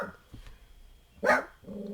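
A pet dog, a small yappy pup, lets out one sharp, loud bark at close range, with quieter shuffling noises before and after it.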